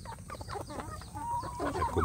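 Free-range village chickens and roosters cluck and squawk close by in a burst of overlapping calls, with a few louder, sharper notes near the end, no speech.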